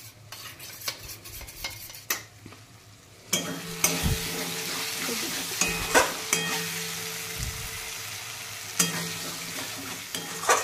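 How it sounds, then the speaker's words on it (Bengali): Tomato sauce mixture for chilli chicken stirred in a hot pan, close repeated scraping and clinks over a steady sizzle that grows louder partway through. "আর অল্প টমেটো সস দিয়ে এবার এই দুটো একটু মিক্সড করে নেব"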